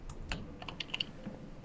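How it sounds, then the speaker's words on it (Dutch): Fingers tap out a short burst of about half a dozen crisp keystrokes on a computer keyboard in a quiet room, with no talking. "Ik was aan het typen."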